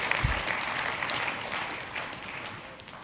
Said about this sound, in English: Yeah, come on, let's applaud.